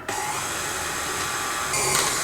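An electric hand mixer whirs at speed through cupcake icing, a loud continuous buzzing drone that holds steady and rises slightly in pitch near the end, with no voices over it.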